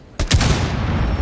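Gunfire in the tactical shooter Rainbow Six Siege during a breach: a sudden loud burst of shots, then a sustained roaring rumble that trails off, with no talk.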